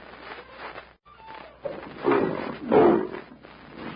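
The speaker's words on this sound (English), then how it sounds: "Lion." A lion roar sound effect in a 1936 radio drama, a low, growling roar swelling in two heaves over muffled, narrow-band background.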